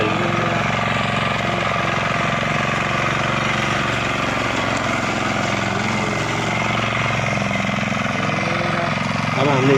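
A tractor engine runs on a rough, difficult road, chugging steadily and loudly up close for the whole stretch.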